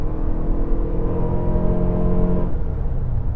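A Toyota Grand Highlander Hybrid SUV accelerating with a steady, muted engine and road drone that holds evenly for about two and a half seconds and then softens, heard from inside the cabin with no talking.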